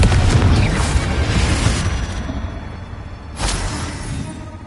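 A Confringo blasting spell goes off in Hogwarts Legacy as a loud, booming explosion with a rumbling tail, and a second, sharper burst follows near the end.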